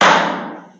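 An auctioneer's hammer strike closing a property sale, a single sharp, loud knock right up close that decays quickly into a short fading room ring lasting under a second.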